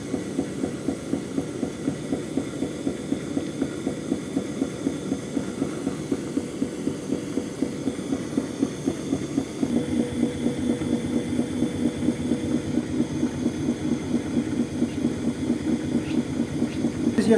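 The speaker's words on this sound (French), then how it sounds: "Et voilà comment fonctionne un moteur Stirling." A restored Stirling engine runs steadily on its own, giving a continuous rhythmic thumping pulse that holds an even pace and grows slightly louder toward the end, with no ignition sounds.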